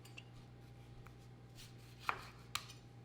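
A sharp knife slices an orange on a board, with two crisp cutting clicks standing out over a low, steady hum in a quiet kitchen.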